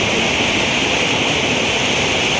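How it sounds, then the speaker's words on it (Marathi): Loud, steady rush of water flowing beside a filled dam, a dense continuous hiss and roar with no pauses, close by and alone. "हे पाण्याचा प्रवाह आहे"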